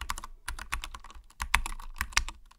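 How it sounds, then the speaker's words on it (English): Close, quick keystrokes on a computer keyboard come in uneven bursts with short pauses, crisp and clicky, no voices. "All you have to do is type in a text,"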